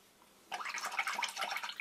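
A paintbrush swished and rinsed in a bowl of water after cleaning acrylic paint off it, a close, busy splashing and trickling that starts abruptly and continues steadily.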